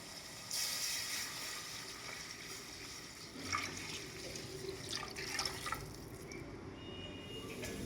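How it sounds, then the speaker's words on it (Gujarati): Five glasses of water are poured into a cooking pot of roasted tomatoes, a steady rushing splash near at hand that runs for several seconds. "હવે પાણીને આપણે અંદર એડ કરીશું"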